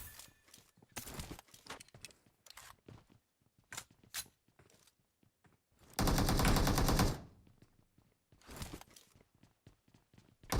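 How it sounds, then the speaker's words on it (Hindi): Gunfire in a shooter video game rings out as scattered sharp single shots, then a dense automatic burst of about a second. Quieter shots and clicks follow, loud and close, with no speech. "तो एक बंदा वहां से फायर कर रहा था 4 नंबर के ऊपर, 3 नंबर के ऊपर।"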